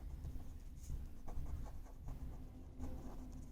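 Hand writing during a probability and statistics lecture, most likely pen or chalk on a board, heard as continuous scratchy strokes with short breaks over a steady low room hum.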